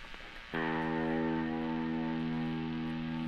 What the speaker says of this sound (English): Let's get some big delay going on here.